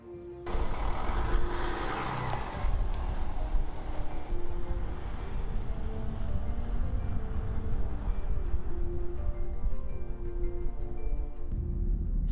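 Land Rover Defender with a 3-litre turbo diesel engine driving along country lanes, a steady low engine drone and road rumble heard from inside, continuous and fairly loud with no talking.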